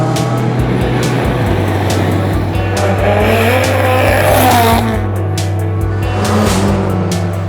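Race cars on the Waimate 50 street racing circuit, a 2.5 km course through a small South Island town in New Zealand, loud continuous engine roar with rising and falling revs as cars pass close by.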